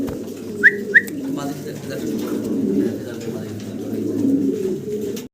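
Young fancy pigeons coo in a low, rolling murmur nearby, with a couple of brief sharp chirps early on.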